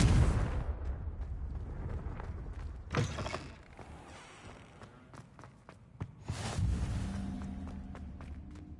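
Bombarda and Confringo spells going off in a video game, bursting in loud booming explosions near the start and again around the middle, with rumbling tails and scattered thuds between them.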